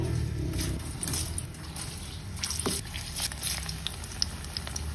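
Bananas sizzle and crackle steadily in hot oil, close by, with occasional pops and light stirring sounds.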